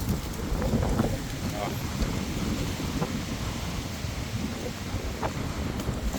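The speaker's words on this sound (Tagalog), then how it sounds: "mahangin ngayon dito sa amin sa Spain ganyan pag papasok ng winter windy" Wind blows outdoors in Spain as winter approaches, a steady rushing roar buffeting the microphone throughout with low rumbles.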